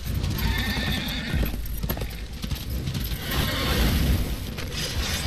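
In the game Darksiders, a war horse's hooves clatter in a rough, continuous gallop with rattling gear and a whinny mixed in. The sound is loud and close throughout, with no voices.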